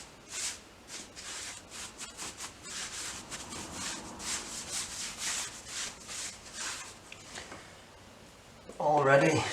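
Brushing dust off a freshly sanded wall before painting over water stains, a series of soft, quick rubbing swipes in an uneven rhythm, fairly faint and close.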